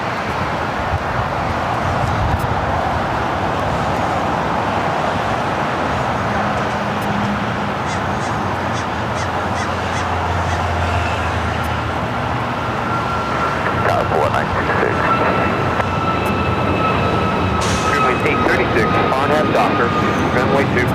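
A Southwest Airlines Boeing 737 MAX 8 taking off at Los Angeles airport, its jet roar steady and moderately distant under continuous live commentary, with crows cawing nearby.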